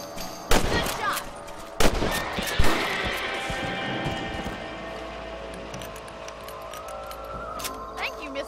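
Rifle shots at rabbits in a Western-style video game: three sharp gunshots about a second apart ring out, followed by a lingering tail and game ambience.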